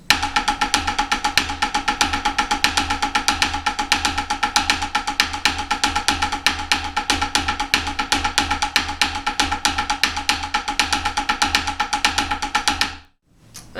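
Snare drum playing a fivelet grid accent exercise: a dense, loud, continuous stream of crisp strokes with regular accents runs for about thirteen seconds, then stops abruptly, leaving a brief ringing tail.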